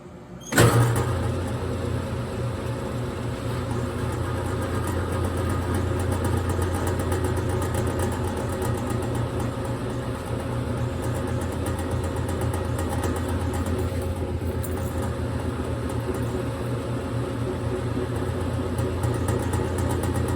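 Barrel sander drums spinning up to sand pinball playfields: a sharp start, then a loud, constant mechanical roar and whine that holds steady for about twenty seconds, close by and with no talk.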